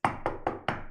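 Four quick, close knocks on a wooden surface, evenly spaced in under a second, sharp and solid with no voices.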